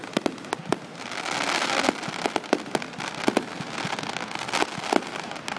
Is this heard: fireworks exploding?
yes